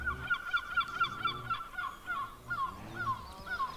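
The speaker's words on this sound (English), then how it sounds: "That's a loud bird." A loud bird, heard in a Minecraft game, calls in a rapid series of repeated honking, gobbling notes, with short pulses coming in quick succession and no talking.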